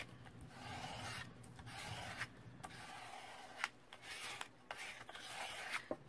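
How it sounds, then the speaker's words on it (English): Scissors trimming around a shower card in a paper craft project, producing soft rasping cuts and rubbing paper noises that come in uneven bursts, close and fairly quiet, with no talking. "All right, now we can go trim around it."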